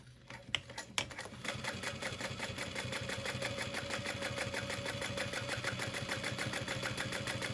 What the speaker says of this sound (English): we're just going to sew at 3/8 of an inch